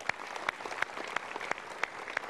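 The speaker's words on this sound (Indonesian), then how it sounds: "Kita berikan tepuk tangan dulu untuk" Audience applause at a motivational talk show, a steady dense patter of clapping with sharper individual claps standing out, moderately loud and without voices.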